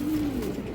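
Pigeons at a market stall selling paired Giribaz birds give a low, steady coo that runs through the short moment at moderate loudness, with no talking over it.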